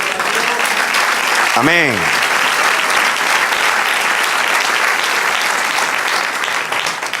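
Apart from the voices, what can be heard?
applause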